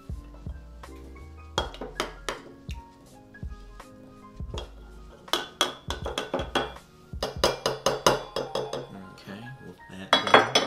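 A cocktail muddler pressing mint or basil leaves in a glass, a series of close, bright knocks and clinks, sparse at first, then quicker and denser, with ringing glassy tones and no speech.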